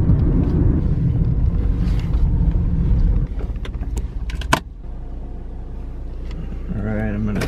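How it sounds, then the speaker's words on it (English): A car engine strains up a hill, giving a loud, heavy low rumble for the first few seconds. It then drops to a quieter steady hum, with a voice talking over it. "Come on, car! Struggling to get up this hill here."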